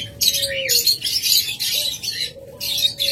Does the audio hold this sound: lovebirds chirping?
yes